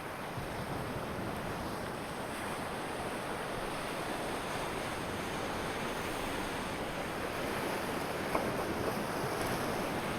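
Sea waves washing along a rocky coastal walking path on Tenerife, a steady, moderately distant wash of surf with light wind and no voices.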